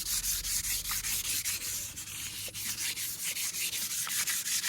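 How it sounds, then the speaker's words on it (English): An aluminum wheel being hand-sanded with 400-grit sandpaper gives a steady, rhythmic back-and-forth rubbing rasp, close and fairly loud, with no talking. "Right now doing the final sanding with the 400."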